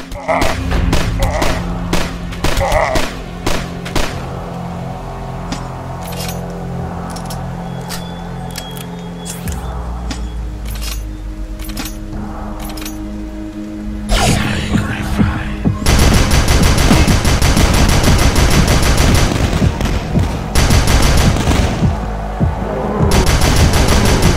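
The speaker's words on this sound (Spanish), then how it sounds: "Podrás disparar sin que se agote tu munición" Loud, relentless gunfire from the PC shooter DUSK with an infinite-ammo cheat active: rapid overlapping shots and booms pour out in dense volleys, swelling into a nearly continuous roar of fire in the latter half.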